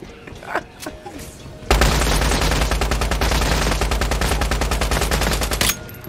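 Automatic gunfire in the survival shooter Once Human during a PvP raid: a loud, rapid, sustained burst of shots lasting about four seconds, preceded by quieter game sounds and faint voices.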